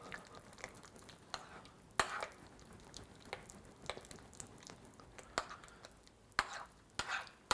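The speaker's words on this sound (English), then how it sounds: "And stir it around." Honey is stirred into a bowl of oatmeal with a spoon, giving faint scraping and irregular clinks against the bowl, with a few sharper taps spread across the quiet stretch.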